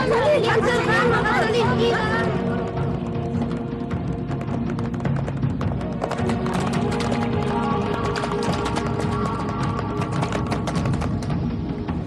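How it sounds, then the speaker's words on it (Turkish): Horses gallop past with a rapid, continuous clatter of hooves that stays loud and close for the whole stretch, mixed with crowd chatter and a brief whinny near the start. "Oğlanlar atlar geliyor."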